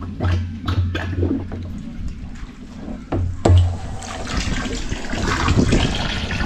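Tap water gushing out under strong pressure, a steady rushing wash with occasional splashes over a low hum, fairly quiet and continuous throughout.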